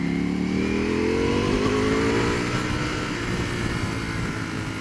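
A 2018 Ducati V4S superbike at full throttle, its engine note climbing steadily under hard acceleration, loud and close with heavy wind rush throughout.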